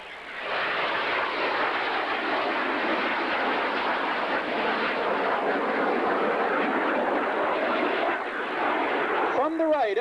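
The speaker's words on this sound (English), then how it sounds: "the three-plane formation led by Snowbird 5 Captain John Lowe of Chatham, Ontario." Snowbirds aerobatic jets in a three-plane formation at the 1990 Stockton Air Show: a loud, sustained roar as the aircraft pass close by, steady for the whole stretch, with an announcer speaking over it.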